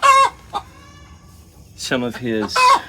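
A rooster clucks in short bursts, a brief cluck at the start followed by a louder run of harmonic clucking calls near the end, fairly close.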